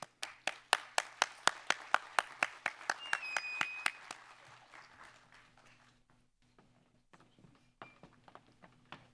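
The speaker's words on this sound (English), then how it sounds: "Please join me in a round of applause for our first moderator and panel, Lauren Hertzer-Risi." At a security forum, a small audience gives a round of applause for a moderator and panel, sharp separate claps in a quick regular rhythm for about three seconds, then fading into scattered faint sounds.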